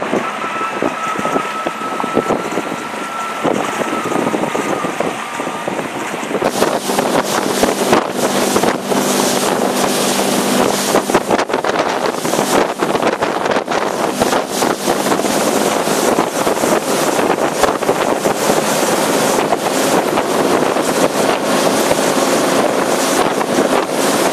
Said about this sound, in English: let's take a ride in the boat